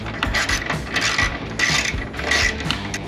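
A hand ratchet with a 10 mm socket on a wobble extension works bolts while replacing the fuel pump on a Harley-Davidson Pan America: rapid clicking pawl bursts in repeated strokes, close and loud, with no voices.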